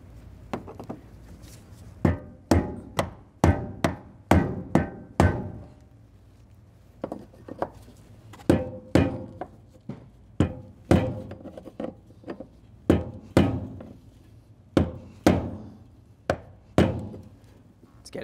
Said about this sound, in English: we'll be using a brass punch and a rubber mallet